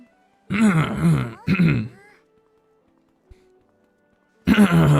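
A man clears his throat twice in quick rough bursts, then a pause with a faint click before another harsh throat-clearing starts.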